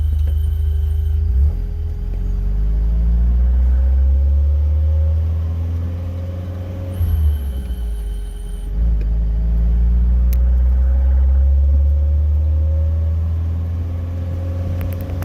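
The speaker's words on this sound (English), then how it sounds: "Engine sounds good" A 1974 Alfa Romeo engine hums steadily while driving, low rumble with rising and falling pitch as it shifts through gears, continuous and close.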